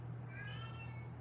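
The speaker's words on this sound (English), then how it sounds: "oh boy, there goes my cat." A house cat gives a single drawn-out meow at night, faint and somewhat distant over a low steady background hum.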